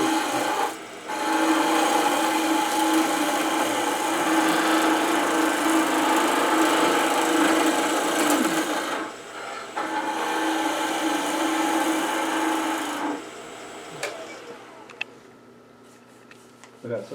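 A skew chisel shears a spinning wooden finial blank on a lathe, giving a steady, loud rasping cut that runs for several seconds, drops out briefly, resumes, then fades as the tool lifts away near the end.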